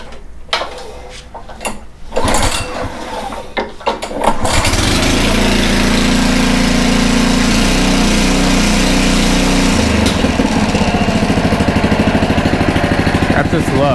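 A Honda HRC216 lawn mower is pull-started on choke: a few rattling yanks, then the engine catches and runs at a loud, steady drone close by, with brief talk before it fires.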